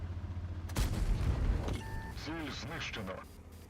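A single heavy tank cannon shot booms from a British FV 230 Canopener in World of Tanks, followed by rumbling game effects and someone talking throughout.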